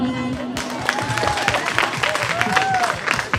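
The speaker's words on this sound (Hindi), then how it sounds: "और इनके लिए जो जोरदार बताओ ताली" Clapping breaks out from the audience at a neighbourhood jagrata devotional gathering, a full, continuous patter of hands with some voices mixed in.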